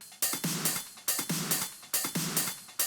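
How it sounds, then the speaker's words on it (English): A trance track's drum loop is mixed with its drums. The hits repeat in a tight, bright rhythmic pattern with sizzling highs, recurring every short bar, moderately loud and heard alone. "So altogether, all the drums sound like this."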